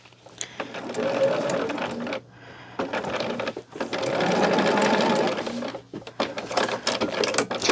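A sewing machine stitches binding onto a quilt, its rapid mechanical chatter running in bursts with short pauses between, moderately close, with faint handling noises.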